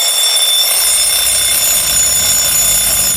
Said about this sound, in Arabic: 3:07 بالظبط بيصحى خالد على صوت منبه مزعج